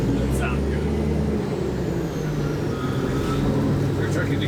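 A restored Kenworth K100 truck's engine drones loudly and steadily from inside the cab while driving, a heavy low rumble with rough road noise and voices over it.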